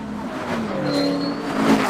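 A 1200-horsepower triple-turbo McLaren accelerates, heard from inside the cabin as a loud, rising engine roar with climbing tonal whine and a brief swell near the end.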